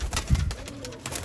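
Black-faced pigeons give low, soft coos in a short burst, close by and alone, with no talking.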